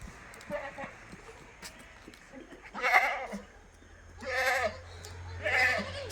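A large Malabari goat, a heavy dairy breed, bleats three times in drawn-out calls, close and fairly loud, while someone talks between and around the calls.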